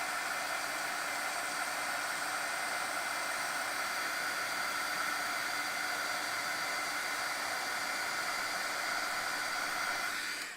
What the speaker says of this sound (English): And then now we'll heat set that